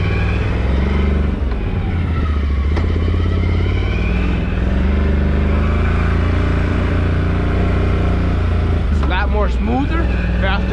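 A 2021 Can-Am Renegade 570 XMR ATV on its first ride, its engine droning steadily up close with shifting throttle pitch, while a rider talks over it.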